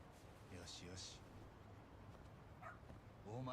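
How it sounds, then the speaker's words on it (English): Dog barking and whimpering in the video game Lost Judgment, short yips and whines at moderate volume mixed with game sounds and someone talking. "Oh, we're getting the dog."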